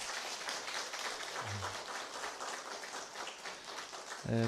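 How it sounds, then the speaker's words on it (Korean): Congregation applause at a church dedication thanksgiving service welcoming an elder pastor, a steady, dense wash of clapping filling the hall for several seconds, with a brief voice near the end. "박수로 환영해 주시면 감사하겠습니다"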